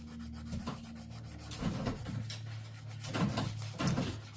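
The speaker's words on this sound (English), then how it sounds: "That is my dog trying to get in here." A dog scratching and pawing at a closed door from outside a craft studio, giving repeated rough rubbing bursts at close range over a steady low hum, with no talking.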